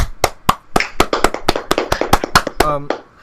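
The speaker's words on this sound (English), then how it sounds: "let's give a round of applause for this guy right now" A single livestreamer claps by hand about a dozen times in a steady, close rhythm to mark a first-ever donation. A short spoken sound follows near the end.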